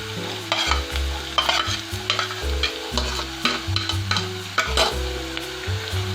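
Vigorous stirring and scraping of garlic, ginger and onions in a sizzling pan, rhythmic utensil strokes over steady frying, close and loud, no voices.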